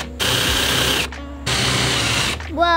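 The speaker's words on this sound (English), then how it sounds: "when you drill into something, make sure you put a piece underneath it" A power drill whirs in two loud bursts with a short pause between them, close up, then spins down as a voice starts to speak.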